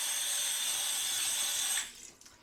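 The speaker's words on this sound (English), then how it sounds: "Wash my hand off." Water runs from a tap for hands being rinsed of shave soap at a sink, a steady close hiss that cuts off near the end and leaves a few faint drips and clinks.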